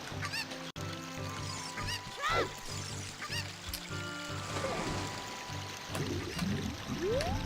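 Fowl squawks from a chicken in Zelda: Ocarina of Time, with a few rising and falling cries scattered over steady background game music and a short burst of speech.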